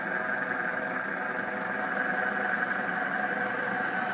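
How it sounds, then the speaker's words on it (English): An antique Canedy Otto bench-top jeweler's drill press from around 1915 runs at full speed on its belt-driven motor, giving a faint, steady hum with a thin high whine and no other sound. "See the belts turning on the top. Motor, things working nicely"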